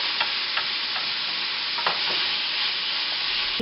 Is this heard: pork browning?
yes